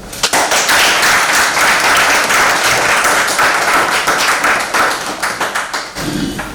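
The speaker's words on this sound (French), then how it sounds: "Ça s'applaudit." Loud, dense applause from an audience celebrating an award for the best Ivorian of the diaspora at a national excellence prize ceremony, sustained clapping that fades slightly near the end.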